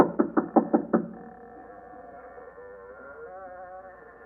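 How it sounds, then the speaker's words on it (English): Five quick knocks on a door in a radio drama, sharp and close in a tight rhythm, then a low hum of room tone and faint murmuring afterward. "I heard them knock on my door"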